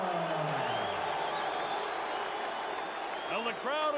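Heavyweight championship boxing crowd for Mike Tyson vs Larry Holmes applauding and cheering in a dense, steady roar, with whistles and whoops rising near the end.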